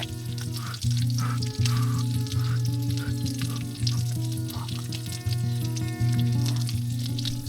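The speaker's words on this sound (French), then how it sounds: "C'est de l'huile bouillante." Sausages and meat frying in boiling oil at a winter camp in a heated tent in Quebec, a steady loud sizzle with a pulsing hum underneath, close and continuous.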